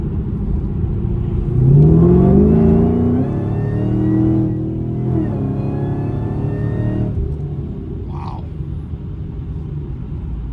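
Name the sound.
Cadillac CTS-V car accelerating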